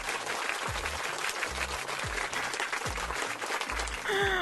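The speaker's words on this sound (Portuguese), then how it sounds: "Palmas pra Bel" Dense, steady clapping runs through the whole stretch with repeated low thumps under it, then cuts to a short tonal sound at the end.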